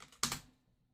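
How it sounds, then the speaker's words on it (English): A few keystrokes on a computer keyboard, faint and close, with a couple of soft taps and a sharper double click before fading into quiet. "Can you hear my keyboard still?"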